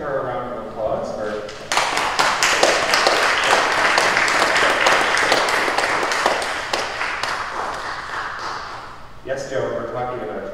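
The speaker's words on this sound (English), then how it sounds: "let's give her a round of applause" A church congregation at a Sunday morning service applauds for a member's birthday, a dense burst of clapping that swells, holds for about seven seconds and fades, with a voice speaking briefly before and after.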